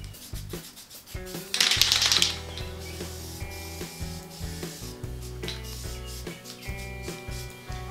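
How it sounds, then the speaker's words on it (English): A spray can of filler primer lays a light coat on interior trim pieces, a short hissing burst of spray standing out clearly over faint background noise and handling clatter. "give the can a shake, and start spraying a nice light coat on top of everything."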